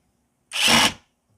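A Banggood brushless impact driver set to its highest torque gives one loud, close burst of about half a second and then stops sharply, with no talking.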